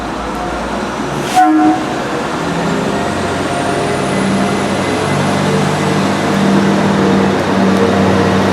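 A Class 175 diesel multiple unit, unit 175 003 on a Manchester Piccadilly service, passes at a Cardiff station. It rumbles steadily throughout and gives a brief, loud horn blast early on, with no talking.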